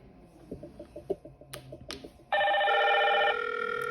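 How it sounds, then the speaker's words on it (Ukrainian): Soft tapping and a couple of clicks, then a Hikvision IP intercom screen and linked phone ring abruptly, a loud steady trilling tone that continues to the end. "Дзвонить екран, і, як ми бачимо, дзвонить зразу телефон"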